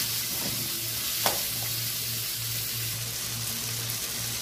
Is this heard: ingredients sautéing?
yes